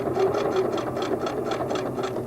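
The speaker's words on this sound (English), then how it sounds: "Continue sewing, being very careful to stitch in the ditch." Singer sewing machine stitching quilt fabric along a seam, a steady rhythmic whir with evenly spaced needle pulses repeating about every third of a second, close and clear with no talking.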